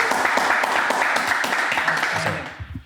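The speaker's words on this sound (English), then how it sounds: "Let's give them a round of applause." An audience applauds two Tennessee Volunteers football players, brisk full clapping that holds steady and then tapers off sharply in the final half second.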